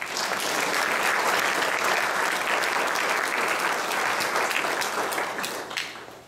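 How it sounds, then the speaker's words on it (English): Sustained audience applause at an academic competition, a dense, even roar of many hands clapping at steady loudness that tapers off at the end. "Please give them a round of applause."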